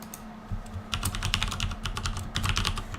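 Rapid typing on a computer keyboard, with irregular clusters of key clicks starting faintly and growing busier and louder after the first second, alone with no talk.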